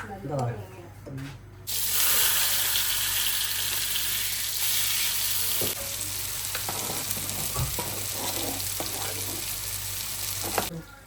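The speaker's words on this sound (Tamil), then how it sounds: "இப்போ குழம்பு கொதிக்குதான்னு பார்ப்போம் ஆ கொதி வருது கொதி வருது" Fish curry bubbles and simmers in a pot with a steady sizzling hiss, punctuated by occasional clinks and scrapes of a spoon nearby.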